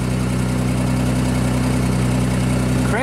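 The engine of a small JLG scissor lift runs at a steady idle, a loud, even low drone with a regular throb up close, carrying on unchanged with no talk.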